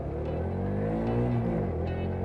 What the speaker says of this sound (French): Nous passons la première et c'est parti.